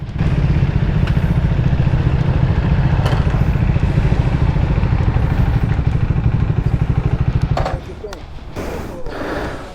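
A Triumph Speed 400 motorcycle engine thrums with a loud, rapid pulsing beat while riding, then the note drops and softens near the end.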